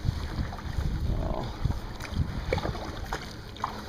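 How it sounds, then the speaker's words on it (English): Paddle strokes dip and splash at a relaxed pace from a Future Beach Explorer 10.4 fishing kayak on open water, with soft wind buffeting the microphone and faint water lapping close by. "And I'm just leisurely paddling."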